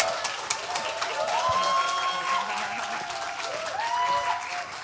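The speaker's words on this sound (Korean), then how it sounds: "박수로 맞아주십시오." An audience at a public broadcast recording applauds steadily to welcome a singer onto the stage, a dense clapping wash with a few voices talking over it.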